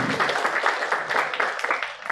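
Audience applause at a Goa gathering of a national academy: a steady wash of clapping hands that holds for about two seconds without a break, moderately loud, with no talk over it.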